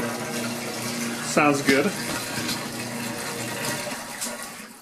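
Water rushes steadily from a newly installed clothes washer as it drains, a continuous hissing flow with someone briefly speaking over it.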